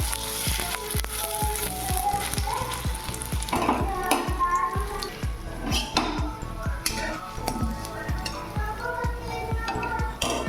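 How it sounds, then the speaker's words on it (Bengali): Posto bora, poppy seed fritters, deep-frying in hot oil with a steady, loud crackling sizzle, overlaid by repeated sharp clinks of a utensil against the pan. "এরকমভাবে সব বড়াগুলোই সেমভাবে ভেজে নেবো"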